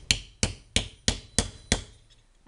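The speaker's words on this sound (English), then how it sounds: "I can use my rawhide hammer and start pounding it flat" Rawhide hammer pounding copper flat, seven evenly spaced, sharp thumping blows, each with a short ringing decay, close and loud.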